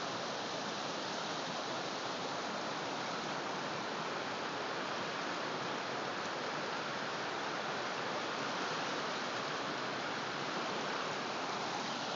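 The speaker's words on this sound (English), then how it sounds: "I can't believe how fast that water's moving." Fast-moving floodwater rushing during a Falconwood flood, a steady, dense broadband roar of churning water that holds constant and close throughout, with no voices.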